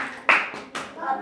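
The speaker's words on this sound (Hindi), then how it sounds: "करण के लिए जोरदार तालियां।" Schoolchildren clapping for a classmate at a primary school quiz, two short bursts of hand claps, fairly close, with faint voices around them.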